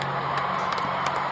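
A concert audience at a show claps and cheers, with a dense, sustained spatter of applause and crowd noise throughout the brief moment.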